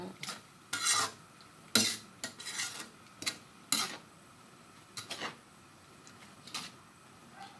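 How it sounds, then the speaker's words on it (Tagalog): Pancit canton noodles are stirred in a pan with a spatula, giving irregular scraping and rasping strokes against the metal, fairly quiet and spaced out over several seconds. "Halo-haloin lang hanggang sa maluto ang pansit canton, ang kanyang noodles."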